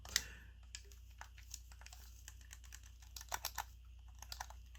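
Soft, slightly clacky button clicks on a PowerA Sonic the Hedgehog Xbox controller, a scattered run of light taps and presses, close and fairly quiet, with no one speaking.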